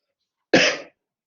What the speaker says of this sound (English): I have a coughing problem.